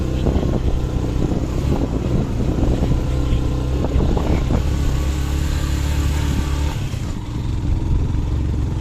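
A motorcycle climbing a muddy, rain-soaked off-road hill track to Lakuri Bhanjyang, its engine droning steadily and close alongside rough wind buffeting, with no voices.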